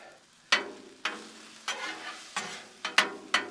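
Sausage and hash browns fry on a Blackstone griddle, sizzling faintly with six sharp bursts of loud crackle as food is stirred or turned, each fading back into a low steady hiss.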